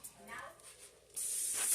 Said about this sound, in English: I'm going to spray the pan with spray pan olive oil, extra virgin olive oil spray